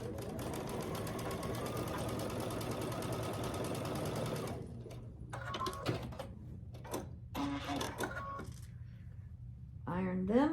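A sewing machine stitches quilt block pieces together in a steady, rapid whirring run that stops partway, followed by quieter handling noises and a brief burst of talk.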